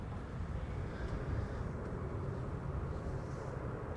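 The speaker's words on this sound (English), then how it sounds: "Don says Stratotanker just flying in front of KLM flight" A distant Boeing KC-135 Stratotanker flies past near a KLM flight at Amsterdam Schiphol Airport, heard as a steady low rumbling jet roar that stays even in level throughout.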